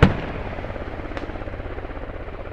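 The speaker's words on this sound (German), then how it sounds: "Feindlicher Heli." Enemy helicopter in the military shooter Squad, a steady low rotor drone with rhythmic thumping pulses running throughout, fairly loud with a sharp burst at the start.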